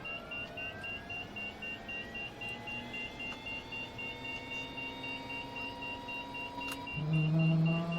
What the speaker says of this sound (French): La turbine démarre